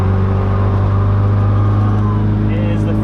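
A Mazda Miata with a new driveshaft and transmission kit drives at freeway speed, its engine and road noise a loud, steady drone that fills the whole stretch without a break.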